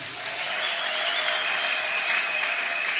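A church congregation applauds during a service, giving a steady, loud wash of clapping that carries on evenly for several seconds with no speech over it.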